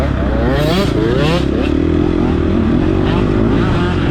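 A two-stroke dirt bike engine revs loud and close at an off-road race, its pitch rising and falling in continuous sweeps with some clatter over the steady exhaust drone.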